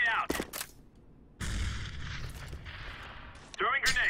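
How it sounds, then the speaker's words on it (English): A grenade thrown and going off in CS:GO: brief game sounds, a quiet pause, then a sudden heavy explosion that rumbles for about two seconds before sharper effects return. "Throwing grenade. Fire in the hole. Grenade out."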